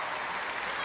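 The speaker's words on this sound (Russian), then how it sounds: "аплодисменты!" Concert audience applauding at a performance, a dense, steady wash of clapping that fills the whole moment with no talk over it.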